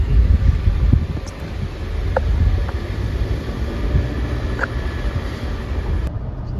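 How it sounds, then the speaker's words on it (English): Strong wind blows outdoors in a suburban neighborhood, a loud, continuous low rushing roar with gusty swells and a few faint distant clicks, no voices. "the wind was really loud"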